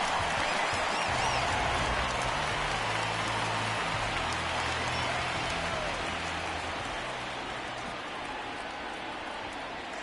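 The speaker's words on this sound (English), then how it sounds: "the rain starting to intensify here. It's coming down a little heavier now." Steady heavy rain pours over the ballpark in an MLB baseball video game, a dense, continuous hiss that fades slightly toward the end, with a faint low stadium hum underneath.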